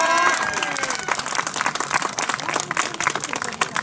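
A crowd claps and cheers at the 2019 All-Japan Trial Championship Round 7 Tohoku motorcycle awards ceremony, with steady, lively applause held at full strength throughout.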